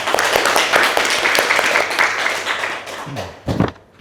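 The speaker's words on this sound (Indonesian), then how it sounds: "Tepuk tangan untuk Rima" Students in a university classroom applaud a classmate, brief dense clapping that fades out with a few thuds near the end, loud and close.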